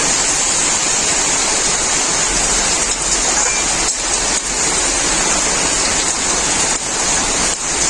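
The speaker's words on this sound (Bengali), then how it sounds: "এখন আমি জল ঝরানো কচু শাকটা দিয়ে দেবো।" Drained taro leaves dropped into hot, oil-released spice masala in a pan, giving a loud, continuous dense sizzle and crackle close up.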